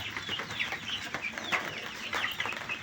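Hens cluck in short, irregular bursts, close by and fairly loud, with no talking.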